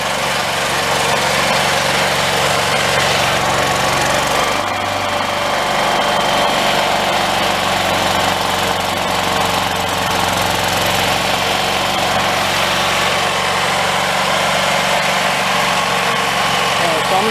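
A Predator 8750 inverter generator running on woodgas hums steadily nearby with a rough, knocking engine note, unloaded and continuous throughout.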